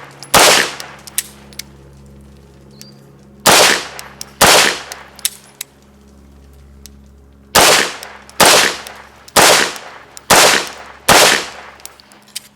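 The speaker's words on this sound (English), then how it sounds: "now we're gonna work some double the single action, so 2 shot sequences" A Beretta M9A3 pistol fires at a range in pairs and single shots: sharp, loud, close cracks spaced by pauses, with a low steady hum underneath between shots.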